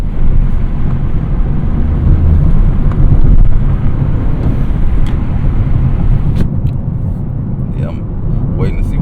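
Toyota GR Corolla engine revving as the car picks up speed, a dense, steady in-cabin roar with wind rush throughout, rising slightly in the middle.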